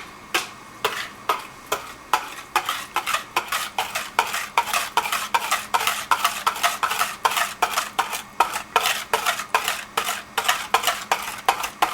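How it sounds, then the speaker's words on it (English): Frozen yogurt ingredients being whisked smooth in a bowl: a brisk, steady run of close metallic clicks and scrapes as the whisk strikes the bowl, about two strokes per second, alone and fairly loud throughout. "Now we just go and we whisk this together until it's smooth"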